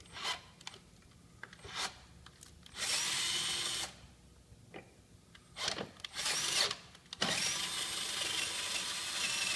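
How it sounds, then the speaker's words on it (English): A 90-degree power drill whirring in several bursts of a second or so each, drilling holes for motorcycle highway brackets, with grinding and scraping between them, close but moderate in volume. "we'll go ahead and drill our holes"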